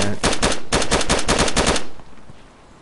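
Rapid automatic gunfire in the survival video game DayZ rattles out as a loud, close burst of shots for nearly two seconds before fading into quiet.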